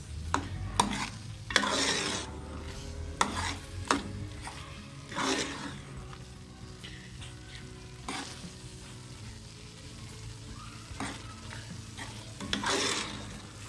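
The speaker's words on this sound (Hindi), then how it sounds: "साथ साथ चमचा हिलाते जाना है ताकि पेठा कद्दू और चने जले ना" A spoon scrapes and stirs pumpkin and black chickpeas frying in a pan, giving repeated sharp clinks and scrapes over a low, steady sizzle.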